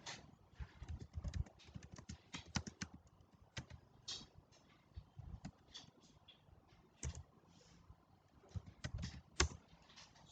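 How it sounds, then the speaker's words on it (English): Quick, light clicks and keyboard-like taps from a computer mouse while opening a new browser tab, sounding close and faint in irregular clusters with short pauses between them. "Suppose I am clicking on new tab."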